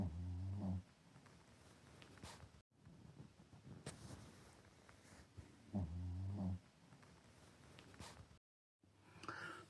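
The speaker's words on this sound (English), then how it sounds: "then you can listen to him snoring" A sleeping pet snores softly up close, the slow breaths rising and falling in a steady repeating rhythm over a quiet indoor background.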